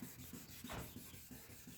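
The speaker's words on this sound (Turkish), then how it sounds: "Biraz zımparalama işlemine devam ediyoruz." Rhythmic back-and-forth wet sanding of a plastic headlight lens with fine sandpaper and water, steady repeated strokes about every third of a second, close and fairly quiet.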